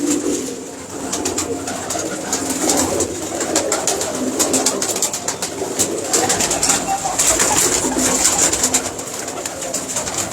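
Pigeons coo steadily in a low, throaty murmur, several birds overlapping at close range with a constant hiss of background noise.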